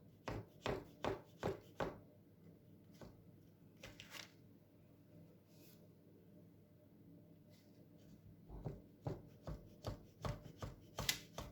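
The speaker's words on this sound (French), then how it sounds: "si vous avez besoin de les tailler encore un petit peu au niveau des côtés, vous n'hésitez pas à tailler pour avoir un beau carré" A knife chops repeatedly through a no-bake chocolate and peanut cake, cutting it into squares with sharp, close board taps in quick bursts, then a quiet pause before another run of cuts.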